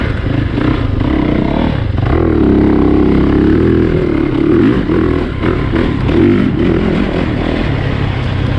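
A 2020 Yamaha YZ450FX dirt bike is ridden, its engine droning and surging through rises and falls in revs with clattering, heard close and loud throughout.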